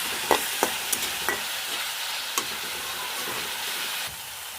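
Salt, turmeric and panch phoron frying in oil in a pan, sizzling steadily while a spoon stirs with a few sharp clacks and scrapes near the start, close and clear with no talk.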